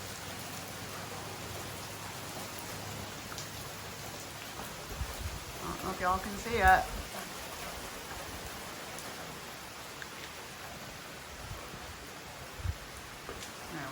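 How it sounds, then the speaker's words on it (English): Steady rain falls outdoors during a storm at a drought-stricken homestead, a soft continuous hiss with a brief louder burst of activity midway, while a person speaks quietly over it. "Okay, the rain's picking up."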